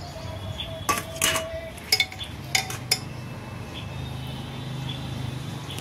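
Mutton pieces for Kolkata-style biryani going into a pressure cooker, heard as a few sharp metallic clinks and clatters of pot and utensils over a steady low kitchen hum, no talking.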